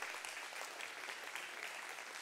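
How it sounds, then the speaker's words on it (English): Church congregation applause fills a hall in a continuous, even wash of clapping, heard from a distance and quite faint, with no talking over it. "Can we give a round of applause to everybody who was involved with that?"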